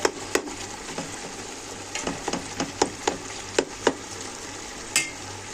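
Minced meat frying in a pan and being stirred, a steady soft sizzle punctuated by a series of sharp scraping and clacking strokes of the spoon against the pan, fairly close.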